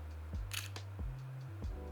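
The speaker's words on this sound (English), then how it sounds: "even the sound of the shutter is just so satisfying" A Leica camera shutter fires several times in succession, crisp mechanical clicks spaced apart and close up, with a faint low hum between them and no talking.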